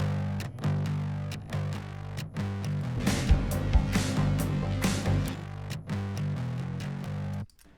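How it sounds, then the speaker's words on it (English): A thick, distorted, double-tracked bass guitar line plays in a rhythmic pattern alongside full-band music, heavy and muddy in the low end. "I actually double tracked bass guitar for this part"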